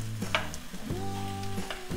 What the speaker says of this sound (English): When we're stir frying, do I need to just keep moving it around the pan